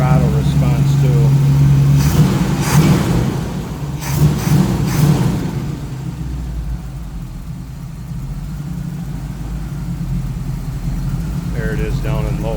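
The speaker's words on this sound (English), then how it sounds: "There it is down in low idle. Listen to that rumble." A 1934 Ford pickup street rod's engine rumbles steadily at low idle, close and continuous, after a brief spell of revving early on.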